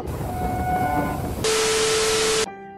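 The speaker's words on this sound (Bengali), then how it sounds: "1 নম্বর প্ল্যাটফর্মে ট্রেনটা দিল।" A train arrives at platform 1 at Jaynagar station with droning horn-like tones, then a loud burst of steady hissing for about a second before it drops away.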